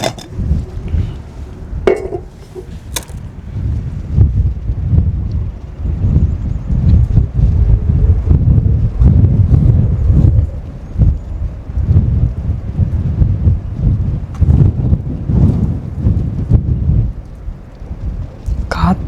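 Gusty wind buffets the microphone in loud rumbling bursts, with occasional clinks and handling noises mixed in.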